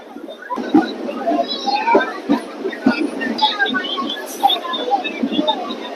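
A DMU passenger train, number 74991, runs near Dhulkot station on the Ambala Cantt line, giving a steady rumble with rhythmic clacks from the rails while children and other passengers talk close by.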